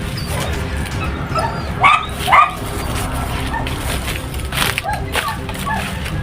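A dog gives a few short yelps and whimpering cries near the two-second mark, fairly close, while people talk quietly over a steady outdoor rumble.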